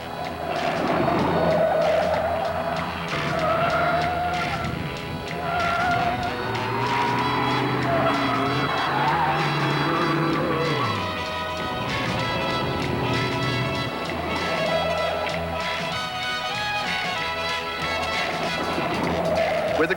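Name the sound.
AMC Gremlin car driving during road test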